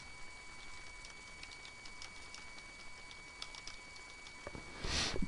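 Keys tapping on a computer keyboard while text is entered into a watermark field, soft irregular clicks at low level over a faint steady hum, ending in a brief louder burst.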